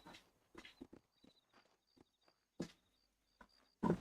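Horse hooves clop on dirt in Red Dead Redemption, in open country outside Armadillo, as sparse, uneven knocks that swell into a louder burst near the end with faint ambient tones between.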